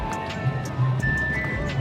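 A horse at a fun fair, with hooves clip-clopping under steady crowd noise and background chatter, the rhythmic hoof steps moderately close and partly masked by voices.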